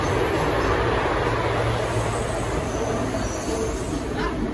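Madurai–Guruvayur express train number 22306 arriving, a loud, steady rumble of rolling rail cars that holds close and constant, with a faint high wheel squeal near the end.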